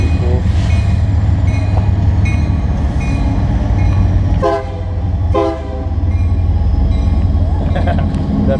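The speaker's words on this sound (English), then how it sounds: "Train coming." A loud train rumbles past close by with steady rolling noise and wheel clatter, a horn sounding in short blasts; a voice speaks briefly.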